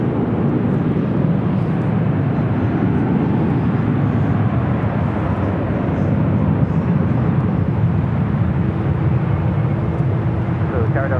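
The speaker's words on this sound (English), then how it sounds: "this flight heading to Paris, A350-900, now rolling down to 24 left" An Airbus A350-900 bound for Paris rolls for takeoff on runway 24 left at LAX, its jet engines a steady, loud broadband roar that holds for the whole stretch, with a faint tonal hum near the end.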